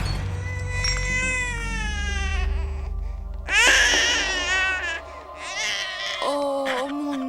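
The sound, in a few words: baby crying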